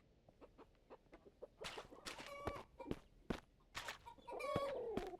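Video game chicken clucking comes in short, quick bursts, sharp and clear, with scattered rhythmic tapping between calls and a drawn-out squawk near the end.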